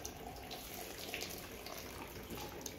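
Water sprays and splashes from a Step2 Pump & Splash Shady Oasis outdoor water-play toy, a steady close hiss of running water with faint dripping over the whole stretch.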